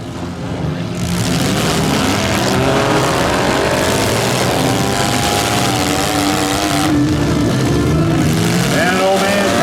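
Junk cars roar around a demolition derby arena in a continuous loud engine din, with occasional sharp bursts of noise rising above the steady rumble.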